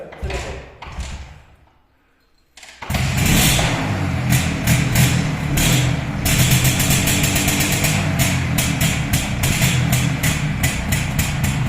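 A restored Simson S51 or MZ ETZ 250 motorcycle starts up and idles nearby with a loud, steady, rapid pulsing beat after a quieter opening, while people talk over it.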